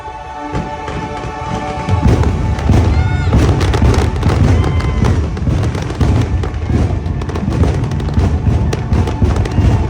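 Fireworks at Magic Kingdom burst repeatedly and loudly, a dense barrage of booms and crackles after a quieter opening, continuing without pause.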